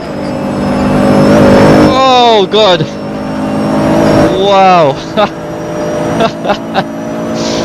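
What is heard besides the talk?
GT3 race car engine accelerating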